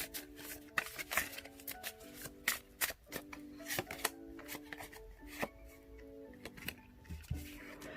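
Tarot cards being shuffled and drawn close by, quiet crisp flicks, riffles and light taps in an irregular rhythm.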